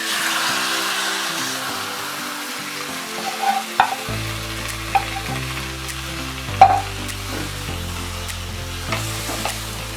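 Vegetables added to a hot pan with spices for South Indian sambar fry with a steady sizzle, stirred now and then with a few soft utensil clicks, close and continuous with no talking.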